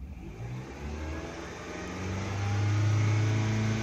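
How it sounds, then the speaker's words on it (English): A Honda car engine with a faulty knock sensor (code P0325) revs up, its low droning pitch climbing and holding steady at a louder, higher whine, with no talking. "I'm gonna rev the engine up and see if anything happens."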